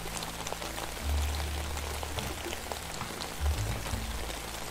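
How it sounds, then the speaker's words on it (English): Rain recording from a long relaxation track plays loudly as a steady, dense hiss of falling drops, with a few low rumbling swells underneath and no voices. "Let's turn on some rain sounds in the background. 10 hours of rain and relaxation."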